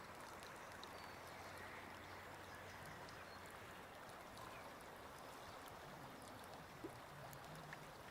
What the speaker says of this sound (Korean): 지금 들리는 이 흐르는 시냇물 소리에 집중을 합니다.